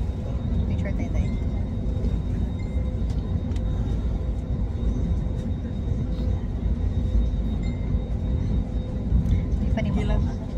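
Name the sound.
airplane flying overhead in Manila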